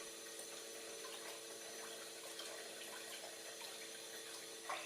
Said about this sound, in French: Réactivons la pompe.